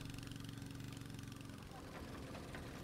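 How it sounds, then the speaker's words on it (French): Engine-driven air compressor on a boat feeding compressed air through long hoses to divers' masks, a steady droning hum that runs unbroken and fairly loud throughout. "Leur masque est relié par un long tuyau à un moteur qui envoie de l'air comprimé."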